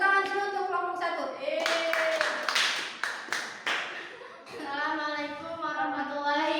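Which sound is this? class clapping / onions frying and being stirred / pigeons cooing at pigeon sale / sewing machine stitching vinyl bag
class clapping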